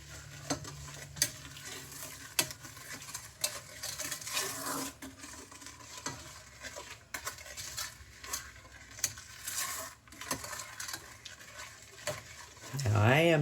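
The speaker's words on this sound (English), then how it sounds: "you're going to stir this all together once it gets warmed up here" A spoon stirs pecan praline mixture into caramel sauce in a pan, sending out repeated sharp scrapes and clinks against the metal over a soft sizzle. A brief voice cuts in at the end.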